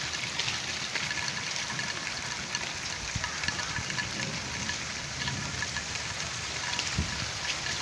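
Heavy rain pours steadily over a village, a dense continuous hiss with drops spattering on surfaces, holding an even loudness throughout.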